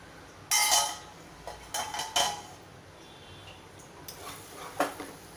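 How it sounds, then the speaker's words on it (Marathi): A lid is lifted off a cooking pot of gram-flour zunka on a gas stove, giving a few sharp metallic clanks and scrapes spread over several seconds, with quieter clinks in between. "दोन मिनटं झालंय आपण बघूया झाकण काढून"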